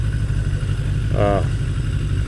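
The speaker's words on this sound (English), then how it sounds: "My idle stays up. You can see it's about 1800 RPM." Motorcycle engine idles high at about 1800 RPM on a hot ride, a steady low rumble up close with a brief rattling, buzzy pulse in the middle.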